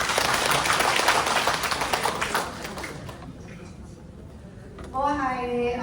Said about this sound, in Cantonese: 掌聲感謝你哋。